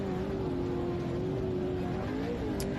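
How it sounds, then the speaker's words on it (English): A small block Chevrolet 431 race engine at the Don River Dash drones steadily at a distance, a continuous mid-pitched hum with little change in pitch. "Have a listen to that small block Chev."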